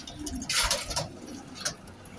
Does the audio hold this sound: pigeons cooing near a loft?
yes